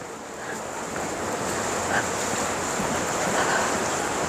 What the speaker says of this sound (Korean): 오늘 바람 부니까 파도가 좋구나